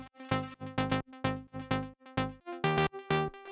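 Layered synth bass from a Serum patch, mono bass notes topped by a brighter synth layer, sounding as short rhythmic stabs that pump in a steady repeating pattern, fairly quiet with no voice.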